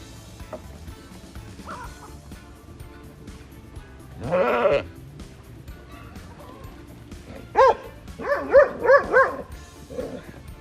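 A sheep bleats nearby, followed moments later by a cluster of dog barks and further bleats in quick succession.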